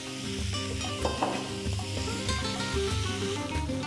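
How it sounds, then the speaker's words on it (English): Beef chunks browning in hot oil for Spanish-style paprika beef, a dense continuous close sizzle with light crackling throughout and no talk. "So our meat's nicely browned off."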